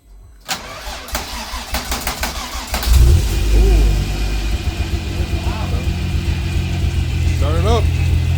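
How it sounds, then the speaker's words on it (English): A VW MK3 Golf VR6 engine cranks with a rapid rhythmic starter whir, then catches and fires into a loud, steady idle with light revs, close by, as people talk. "get the motor spun a few times to see if it starts"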